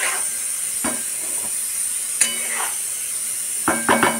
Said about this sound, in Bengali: টমেটো পেস্টটা দিয়েও আমি একটু নাড়াচাড়া করে নেব, মশলাটা একটু লাল করে নেব।